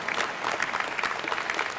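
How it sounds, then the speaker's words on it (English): A commencement audience applauds, a steady patter of many hands clapping in a large hall for about two seconds. "Just that alone should get applause."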